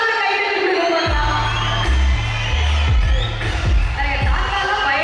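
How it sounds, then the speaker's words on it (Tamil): Spectators at a kabaddi match between Incometax Chennai and Karpagam University clap and cheer loudly, with bursts of thumping applause and shouting starting after a quiet first second. "தாத்தாலாம் பயங்கரமா கை தட்டுறாரு"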